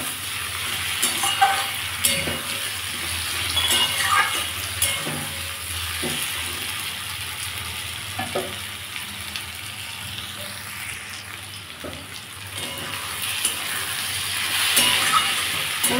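Drumstick pieces (sajne danta) frying with potatoes in oil and being stirred in a pan, a steady sizzle with repeated scraping and clinking strokes of the spatula throughout.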